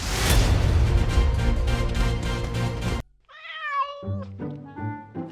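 A cat meows several times in a short, wavering series after an abrupt cut from a dense burst of louder sound, the cries fairly close and clear, with no talking.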